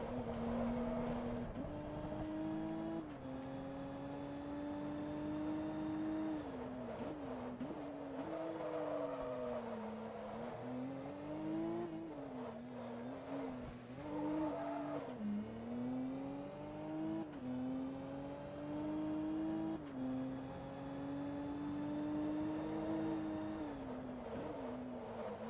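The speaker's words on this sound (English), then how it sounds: "I wasn't even checking how fast the car was going." A race car engine in Forza Motorsport 2 drones and climbs through the gears, pitch rising and dropping with each shift, loud and steady with no talking.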